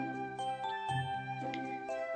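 A doorbell chimes in a Home Alone video game, with several clear, bell-like notes struck one after another and ringing on over each other, and no one talking.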